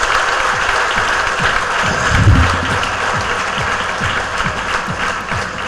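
Audience applause fills a felicitation function at an IAS academy, a steady dense wash of many hands clapping throughout, with a brief swell near the middle and no one speaking.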